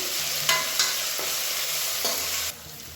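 Ground garlic sautés in a hot pan while being stirred. A continuous sizzle is broken by a few sharp scraping strokes of the spoon, and it drops to a quieter hiss near the end.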